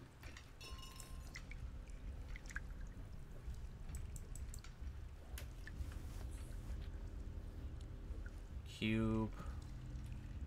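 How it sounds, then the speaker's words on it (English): Water bubbles and pours quietly behind the player in the Among the Sleep video game, a low continuous liquid sound running under a person's voice. "I don't like the sound of the water bubbling behind me."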